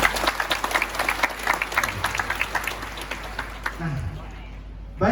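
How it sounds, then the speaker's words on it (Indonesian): An audience at a university gathering in Padang claps in a lively burst that tapers off after a few seconds, a voice speaking briefly as the applause fades. "Alhamdulillah, tepuk tangan."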